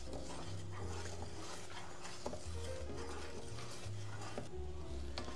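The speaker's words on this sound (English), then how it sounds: "I'm going to turn the heat up to a medium high. And we'll let this boil for 3 minutes." A praline glaze mixture bubbles in a pan on medium-high heat while a utensil stirs and scrapes against the pan, producing a steady close scraping texture with occasional clinks.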